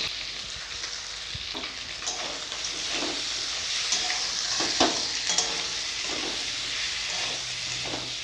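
Green peas tipped into frying kohlrabi and stirred in a pan, a continuous close sizzle with repeated scraping and clacking of the spatula, no one speaking.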